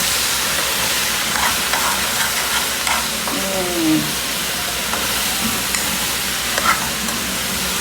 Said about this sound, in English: Alright, so I'm going to give this a good mix